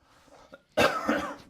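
A single loud, harsh cough bursts out after a moment of quiet, close to the microphone, with a faint throat sound just before it.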